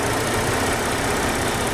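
A 2008 Ford Taurus SEL engine idles in a steady, even hum, close and alone with no talking over it.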